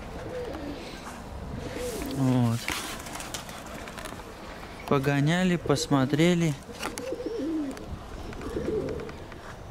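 Armenian fighting pigeons coo in low, rolling phrases close by, heard in two short spells while someone talks over them.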